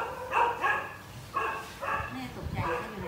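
A dog barks in several close, loud bursts spread across a few seconds, with yips and a whimpering edge, alone with no talk over it.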